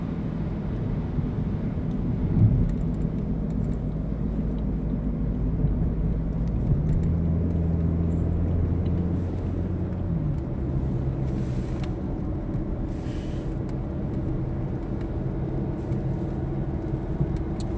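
A steady low engine and road rumble fills the cabin of a Chevy Cruze while driving, with a few brief tonal shifts and no talking.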